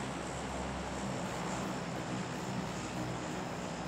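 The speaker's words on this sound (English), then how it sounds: "Stupid plane, I can't hear his footsteps." A propeller airplane drones steadily overhead in the battle royale game PUBG, a loud, constant engine roar filling the whole stretch without letup or speech.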